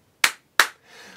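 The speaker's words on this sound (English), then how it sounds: "Let everyone clap hands like me" Two sharp, close hand claps spaced about a third of a second apart in a children's clap-along song, each ringing briefly before a faint sustained tone follows.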